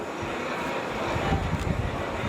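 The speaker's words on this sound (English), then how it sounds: "We are still launching aircraft off the bow, and we can launch aircraft on average every 30 seconds." Aircraft launch off the bow of the carrier USS Lincoln with a broad, steady jet engine roar and wind rush that swells slightly toward the end, with no speech.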